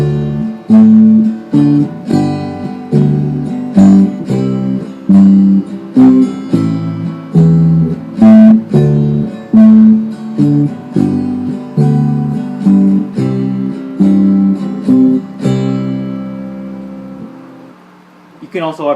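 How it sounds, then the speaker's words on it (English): Arpeggiated power chord on bass guitar played over a backing sample, a steady stream of deep, punchy notes in a regular rhythm, loud and close, ending with a fading decay. "Put it together with the sample and it sounds something like this."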